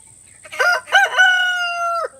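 A rooster crows once nearby, a loud, clear cock-a-doodle-doo with a long drawn-out final note.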